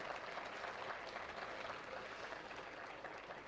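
An audience at a Jamaat-e-Islami speech at Rafah University in Faisalabad claps in a steady, dense patter of applause, faint and fairly distant, with no voices over it.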